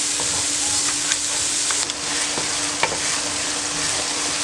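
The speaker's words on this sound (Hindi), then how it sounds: "अब आपने 5 मिनट के लिए इसको फ्राई करना है।" Masala for dal karahi sizzling steadily in a pan, a constant loud crackle with a few faint scrapes of a spoon stirring through it.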